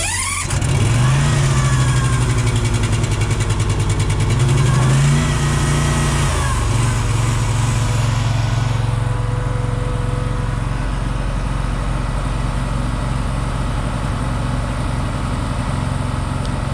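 A vehicle engine fires up on choke and revs loudly twice, settling into a steady, rough fast idle that runs close and continuous to the end with no talk over it.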